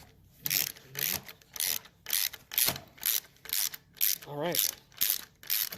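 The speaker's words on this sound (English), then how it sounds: "We are tightening these nuts down now." A ratchet tightening nuts on the front fork of a 1971 Triumph Tiger 650cc during restoration, rasping in a steady series of close, rhythmic clicking strokes, with someone briefly speaking over it.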